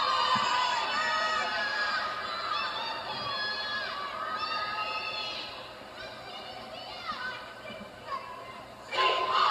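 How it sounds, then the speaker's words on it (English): Cheerleading squad performing a crowd cheer at a state prelims competition, with high shouted chanting voices in bursts over a murmuring crowd, ending in a louder rise of cheering. "Opening up with a crowd cheer with some signs."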